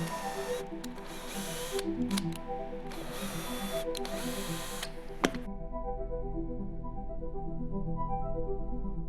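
Hand-tapping 3mm threads into a fiberglass plate on a RANS S-21 tail beacon mod: steady rhythmic clicking and ratcheting mechanism sounds, close and continuous, with a sharp tick partway through.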